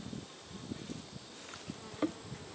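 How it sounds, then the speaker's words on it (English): Honey bees buzz around a hive in a faint, steady drone, with a brief louder fly-by near the end of the short stretch. "We're going to smoke the bees down just a little bit here."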